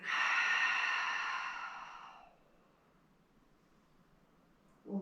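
A strong breathy exhale during a floor core exercise lasts about two seconds, then fades to quiet room tone, with a brief sharp breath at the very end.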